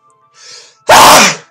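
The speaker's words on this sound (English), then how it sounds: "I just sneezed twice." A single loud, close sneeze bursts out after a soft inhaled gasp, sharp and explosive, then tails off quickly; no talking alongside it.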